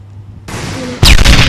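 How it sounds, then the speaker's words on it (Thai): A bomb skill explosion in a Roblox game: a quiet lead-in gives way to a hissing burst, then a loud, sharp blast that fills the last half-second, close and without talk. "ปล่อยระเบิดไปข้างหน้าศัตรูแล้วศัตรูก็จะเด้งขึ้นนะ"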